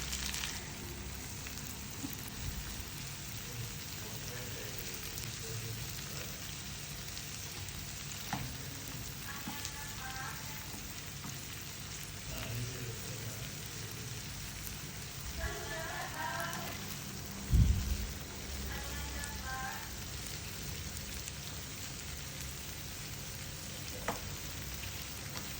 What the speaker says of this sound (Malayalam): സവാളയും ഒന്ന് നല്ല രീതിക്കൊന്ന് വറുത്ത് വരട്ടെ, ഫ്രൈ ആയിട്ട് വരട്ടെ.